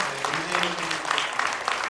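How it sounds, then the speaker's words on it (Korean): An audience applauds after a presentation at a public education debate forum in Incheon, giving dense, steady clapping that carries a faint murmur and then cuts off abruptly. "여러분 박수 보내주세요."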